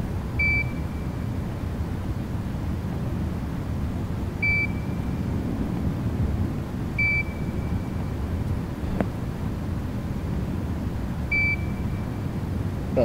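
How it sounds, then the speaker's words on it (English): Four short, thin electronic beeps from a Backrooms video game, spaced several seconds apart, ring out over a steady low hiss and rumble. "I can hear the beep over here."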